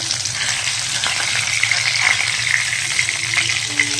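Koi fish fry in hot oil, a loud steady sizzle and crackle close by, with faint utensil stirring sounds and no talking.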